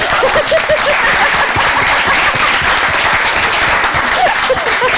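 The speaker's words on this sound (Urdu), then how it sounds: "تالیاں تو ہو جاتا یار." A television studio audience claps loudly and steadily on a Samaa TV talk show, a dense continuous patter of hands with scattered chuckles and snickers mixed in.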